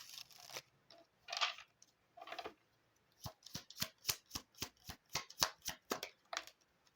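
Oracle cards are shuffled by hand during a Gemini reading, first a few soft scattered riffles, then a quick regular run of about a dozen crisp snapping cards, close and fairly quiet with no talking.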